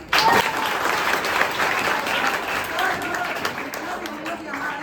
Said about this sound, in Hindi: तो सर के लिए तालियां।